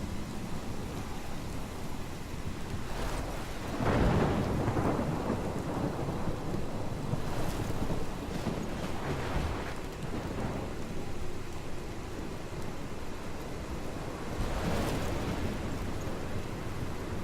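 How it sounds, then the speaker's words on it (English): Thunderstorm in the game Life Is Strange: steady heavy rain with several deep rumbling thunder rolls and crashes spread across the stretch, no voices heard. "This is my storm."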